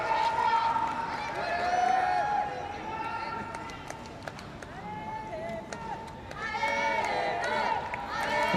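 Crowd noise from spectators at a Paralympic boccia match in Paris, a steady roar of cheering and shouting that swells and dips across the span, with whistles and brief shrill calls, heard from within the venue.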